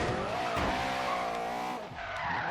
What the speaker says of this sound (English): So when we're sliding second gear, we can still spin those back tires around